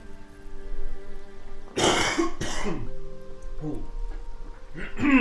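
Two sharp bursts of coughing close to the mic, followed by a couple of softer throat-clearing coughs, over a low steady background hum.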